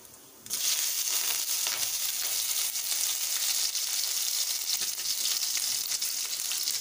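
Green chillies crackle and fry with popped mustard seeds in hot oil for a roadside-style masala dosa filling, a steady, loud, dense sizzle that starts abruptly and continues unbroken, with no talking.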